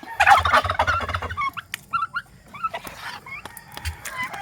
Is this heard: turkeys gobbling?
yes